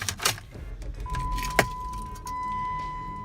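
A 2017 Jeep Patriot Sport is started with its key: a jingle of keys and a sharp click, then a steady chime tone as the engine turns over and settles into a low, even idle close by.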